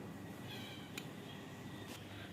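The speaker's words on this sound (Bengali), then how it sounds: "আমার জুতা শব্দ করতেছে," Shoes squeak indoors on a house floor with a thin, cat-like meowing tone: two faint, brief chirps about a second apart over a low background hiss.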